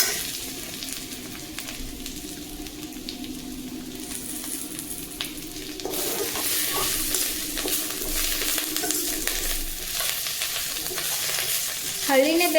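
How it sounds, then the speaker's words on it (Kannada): Vegetables and garlic frying in a pan for a simple North Karnataka-style dish, a steady sizzle throughout that grows denser and brighter midway, with faint stirring scrapes and no voices. "ಬೆಳ್ಳುಳ್ಳಿದು ಕಲರ್ ಸ್ವಲ್ಪ ಚೇಂಜ್ ಆದಾಗ ನೀಟಾಗಿ ಫ್ರೈ ಮಾಡ್ಕೊಂಡ್ಬಿಡೋಣ"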